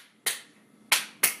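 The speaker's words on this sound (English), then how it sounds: "like doing some rhythm in with clapping by clapping the hands, but it cuts off" Three sharp hand claps on an old Korean cylinder recording, spaced unevenly in a short rhythm, each bright and crisp with a quick decay over a faint hiss, the last one cut off abruptly.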